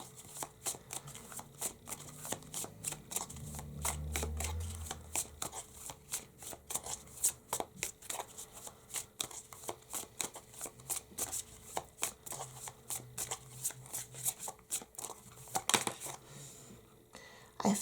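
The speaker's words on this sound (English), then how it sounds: "So let's pull an affirmation card or two." Affirmation cards for a tarot reading are shuffled up close, with a long run of crisp, rapid riffles and taps, plus a faint low murmur partway through.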